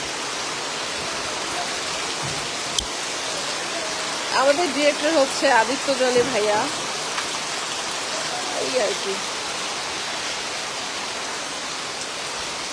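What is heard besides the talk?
heavy rain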